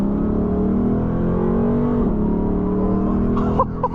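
Engine of a 2022 Lexus RC F while driving, a steady loud cabin drone that rises slightly and dips near the middle, with faint voices briefly toward the end.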